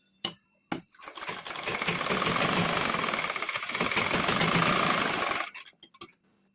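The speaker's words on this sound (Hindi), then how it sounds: "डबल ला लेना है और जैसे कि हमारा अंदर का कपड़ा हमें दबाते हुए सिलाई लगाना है।" A sewing machine runs a long seam through doubled blouse fabric, a fast continuous mechanical rattle for several seconds, bracketed by a few sharp clicks and taps before and after.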